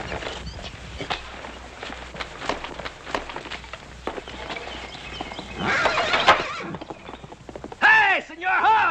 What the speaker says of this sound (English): Hey, Senor Horse